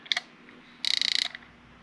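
A crimping tool squeezes pins for a Harley Davidson connector: a short metallic click, then a quick ratcheting burst of about a dozen rapid clicks, close and fairly quiet, with no voices.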